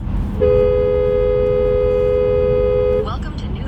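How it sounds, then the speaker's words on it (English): A single long car horn blast holds steady for about two and a half seconds over a busy road rumble on a New Year's outing in New Hampshire, then cuts off as voices break in. "Oh, honking!"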